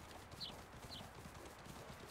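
Horse hooves galloping in the video game Windstorm Ari's Arrival, a quiet steady clip-clop rhythm running throughout at low level.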